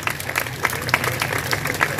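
Audience at a school's opening-day ceremony for the new academic year clapping steadily, with sharp individual claps standing out from the crowd's continuous applause.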